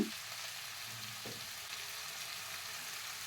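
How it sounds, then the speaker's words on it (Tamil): Cabbage and chana dal fry for poriyal in a steady, even hiss that holds quietly throughout, with a brief clink of a utensil near the start and no voices. "இப்போ வேக வச்சு கோஸும் கடலப்பருப்பும் போட்டுக்கலாம்"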